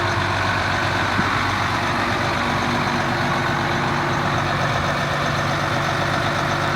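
A new tractor's engine runs steadily throughout at a deep, even idle, close by and fairly loud, with a constant low rumble and no voices over it.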